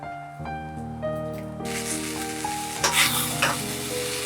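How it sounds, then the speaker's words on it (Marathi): Tomatoes going into a hot pan of sautéed ingredients for Veg Maratha, an Indian restaurant-style vegetable curry, crackle into a steady, close sizzle with stirring and scraping throughout, no talking. "आता मी यामध्ये टोमॅटो घालत आहे,"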